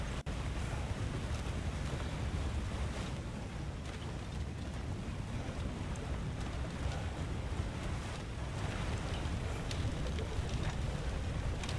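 Continuous rushing water flows steadily in the Ragnarok video game, a dense, even wash of broadband noise with no breaks, fairly loud and alone.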